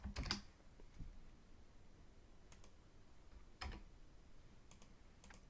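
Sparse, faint keystrokes on a computer keyboard while typing a search for a house painter in Pleasanton, a few scattered clicks and short bursts separated by quiet gaps.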